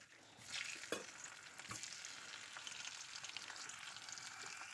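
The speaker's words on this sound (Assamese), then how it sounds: "এতিয়া কণীখিনি ফ্ৰাই কৰি ল'ম" Eggs fry in hot oil with turmeric and salt, a soft continuous sizzle with a few sharp stirring knocks near the start, quiet and close.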